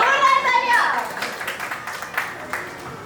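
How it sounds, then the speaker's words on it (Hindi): Excited chatter and cheering in a classroom give way to a patter of clapping hands that continues steadily, fairly close. "जोरदार तालियां।"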